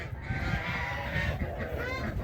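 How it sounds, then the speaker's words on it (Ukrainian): Domestic hens, a small flock of three kept at home in a backyard coop, cluck and call steadily at close range over a low farmyard rumble, with no talking. "Оці кури три штуки теж вдома"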